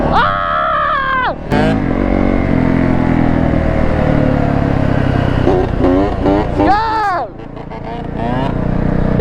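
A Yamaha YZ125 two-stroke dirt bike revs loud and close while doing donuts in a lot, its engine pitch sweeping up and down, with excited shouting and voices over it.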